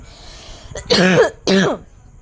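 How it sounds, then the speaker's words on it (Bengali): Someone with a cold coughs or clears their throat twice in quick succession, close and fairly loud, with near silence around it. "প্রচুর পরিমাণে কাশি হয়েছে আর ঠান্ডা লেগে গেছে প্রচুর পরিমাণে"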